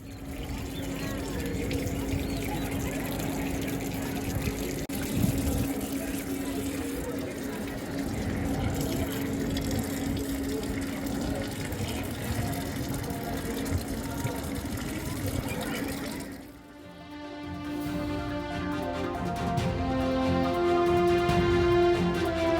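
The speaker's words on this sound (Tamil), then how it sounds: "ஒரே பைப்பில் பக்தர்களும் குரங்குகளும் தண்ணீர் குடிக்கும் அவலம்." Drinking water runs steadily from a shared public pipe at a Tamil Nadu temple where devotees and monkeys drink, a continuous splashing flow with a background hum, shifting near the end to a brighter, more broken trickle.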